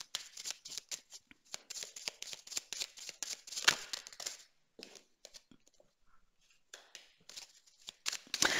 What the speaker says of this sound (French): j'ai tiré encore une carte pour vous